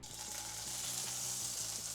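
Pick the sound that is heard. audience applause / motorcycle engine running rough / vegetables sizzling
vegetables sizzling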